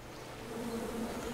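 Bees buzz in a video game, a steady low droning hum that swells slightly over a second and a half at moderate, fairly faint volume.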